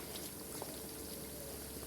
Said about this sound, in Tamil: சிம்மில் வச்சு கொஞ்சம் நேரம் அதை கொதிக்க விடணும்